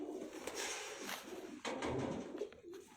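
Pigeons in a loft coo softly amid a broad wash of airy background noise, the calls faint and blended rather than distinct.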